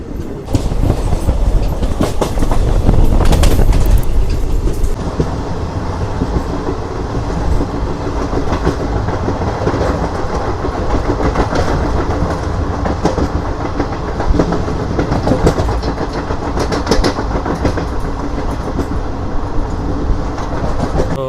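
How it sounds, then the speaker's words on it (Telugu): Passenger train rolling between Miryalaguda and Nalgonda, a steady loud rumble of wheels on rails with rhythmic clickety-clack throughout, heavier and denser in the first few seconds, no voices. "మన ట్రైన్ వచ్చేసి మిర్యాలగూడ నుంచి అయితే బయలుదేరిపింది సో నెక్స్ట్ స్టాప్ వచ్చేసి మనకు నల్గొండ"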